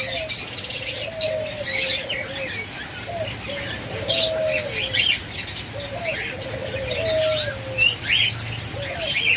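A pair of white ringneck parakeets at a pet bird sale, chirping and calling in short bursts over a steady low background hum, with other birds twittering nearby.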